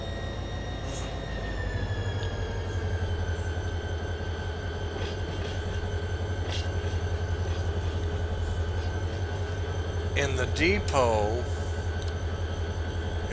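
A locomotive in the train simulator Run 8 backs up toward its cars, with a low steady diesel rumble throughout and a brief metallic squeal near the end. Someone talks over it.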